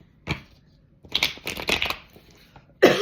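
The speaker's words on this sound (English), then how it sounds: "Is that a sign for me to pull a tarot card" Tarot cards shuffled and one drawn from the deck, making close, papery riffling bursts separated by short pauses, with a final loud shuffle at the end and no speech.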